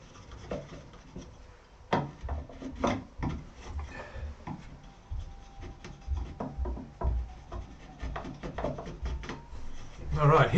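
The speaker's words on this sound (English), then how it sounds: "Shave that nice and gently. Round those edges off." Wooden guitar edges being shaved and rounded by hand, with irregular scraping and rubbing strokes, some sharper knocks, close and moderately loud.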